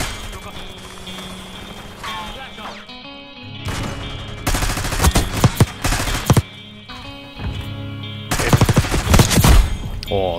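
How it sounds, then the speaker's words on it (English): Gunfire in a first-person shooter video game, loud bursts of rapid shots with sharp impact hits, separated by quieter stretches. "the headshot sound is so good. It's so loud, though"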